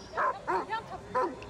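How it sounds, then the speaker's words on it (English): Huntaway sheepdogs bark at a sheepdog trial, giving four loud, close, deep barks in quick succession, each one clipped short. "What a couple of magnificent hunterways."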